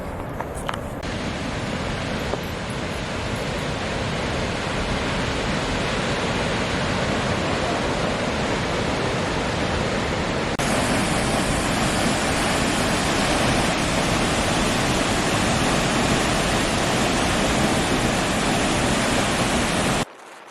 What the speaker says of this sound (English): We went on a hike to the falls.